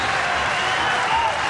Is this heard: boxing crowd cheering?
yes